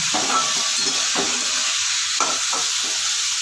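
Slit green chillies frying in hot oil for a mustard-leaf and pea dal, a bright steady sizzle punctuated by a few spoon scrapes, close and loud with no talking.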